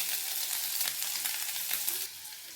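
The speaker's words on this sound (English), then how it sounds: "we're gonna put the three into the pan because we're gonna fry it." Food frying in a pan with sambal, a steady dense sizzle with crackling bursts and faint stirring, close and loud, easing slightly toward the end.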